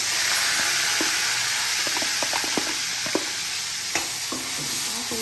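A ground spice paste fries in a pan with a strong, even, close sizzle, with scattered light taps and scrapes of a spoon stirring over the hiss.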